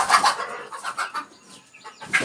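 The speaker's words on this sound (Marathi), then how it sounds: "सगळे कोंबडी आहेत हे बघा" Native village hens clucking in short irregular bursts, close and fairly loud, with a few softer calls between them and no talking.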